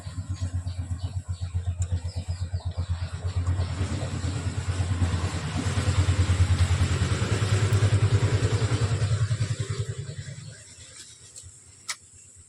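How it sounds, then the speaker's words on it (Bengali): A passing vehicle's engine roars loudly nearby with a pulsing low rumble that swells in the middle, then fades away, leaving quieter background with a sharp click at the end. "দাঁড়াও গাড়িটা যেয়ে নি ভীষণ আওয়াজ আসে"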